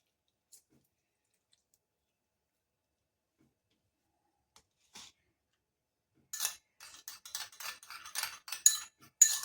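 Lemon juice being stirred into a face pack in a bowl, giving a run of light, quick clicking and scraping taps that start after a near-silent stretch with a few isolated ticks.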